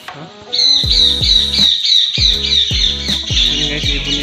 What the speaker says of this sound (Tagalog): Yan guys, ibon yan.